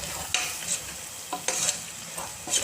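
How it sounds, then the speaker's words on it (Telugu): Carrots frying with masala in a pan, stirred in short scraping strokes over a steady sizzle; several distinct stirs ring out close and clear with no talking. "ఈ మసాలా వేగాక వెంటనే మనం క్యారెట్స్ వేసుకోవాలండి."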